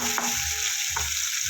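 Onion paste stirred and fried in a pan, a steady hissing sizzle with a couple of soft spatula scrapes, close and continuous, no talking.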